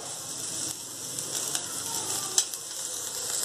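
Onion and garlic fry in a pan, a steady hiss of sizzling with small scraping stirs and a sharper clink or tap partway through, close and moderately loud.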